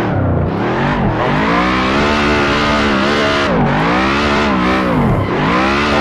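A Ferrari engine in the Assetto Corsa racing game, revving hard in repeated rising and falling sweeps, loud and close, with the pitch dropping sharply between pulls as gears or throttle change; no voices.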